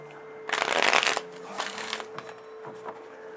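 Tarot and moon cards are shuffled by hand in quick rustling bursts, a loud riffle up close followed by softer flicks and shuffles, with no speech.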